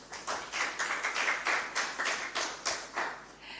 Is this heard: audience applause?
yes